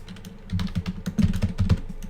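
Rapid keyboard typing as a data entry job search is entered on Indeed.com, a close run of crisp key clicks in uneven bursts that grow louder midway.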